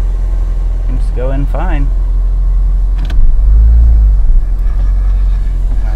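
A Honda Civic engine idles high after a transmission swap, a steady low rumble heard close by under a man's brief speech, swelling slightly louder midway through.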